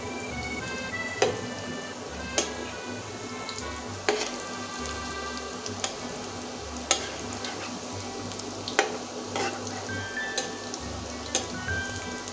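Raw potato and semolina pakoras frying in hot oil, a continuous close sizzle and bubble with occasional sharp clinks and taps of a utensil against the pan.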